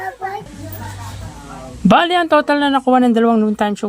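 Children chattering and calling out in a room, high-pitched young voices close by with a sharp vocal burst midway followed by continuous lively noise.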